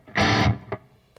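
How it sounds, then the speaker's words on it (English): Distorted electric guitar tone from an Axe FX modeler with room-style reverb: a loud strummed chord that stops sharply, leaving a fading reverb tail with a couple of faint trailing hits. "So when I stop playing, you can hear the reverb."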